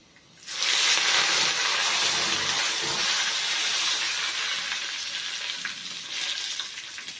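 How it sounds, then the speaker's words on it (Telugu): Curry leaves hit hot oil with a sudden loud burst of sizzling that stays strong and steady, then eases slightly, while dal is tempered with dried red chilies. "ఇప్పుడు కరివేపాకు వేస్తున్నాను"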